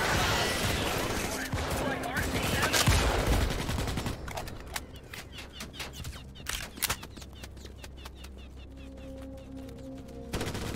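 Gunfire rattles through a Starship Troopers: Extermination battle, with dense automatic bursts early giving way to sharp, separate shots and short volleys, loud and close amid chaotic combat noise while players talk.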